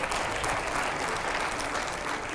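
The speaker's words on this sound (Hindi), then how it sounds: "जरा जोरदार तालियां बजाइएगा इसको लेकर" An audience claps vigorously on cue, a steady, dense roar of applause that stays level and unbroken for the whole stretch.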